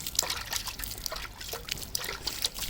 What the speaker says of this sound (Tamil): ஃபுல்லாக தண்ணி தெளித்து விட்டுக்கணும்.